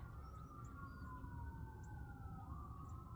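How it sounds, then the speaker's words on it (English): A faint ambulance siren wails and slowly rises and falls in pitch, far off beneath low traffic rumble. "That's like an ambulance siren."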